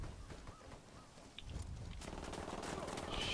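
Gunfire erupts in Ghost Recon Wildlands during a night raid, soft scattered shots that build into dense continuous rattling bursts, with a voice briefly under the firing.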